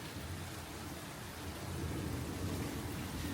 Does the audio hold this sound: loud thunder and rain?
yes